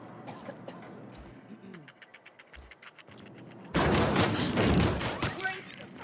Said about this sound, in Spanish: Dispara a las ratas.